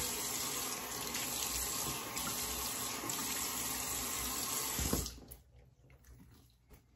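Tap water runs steadily into a sink while rinsing off after a straight razor shave, a close, full gushing hiss that stops abruptly near the end, leaving faint drips and handling sounds.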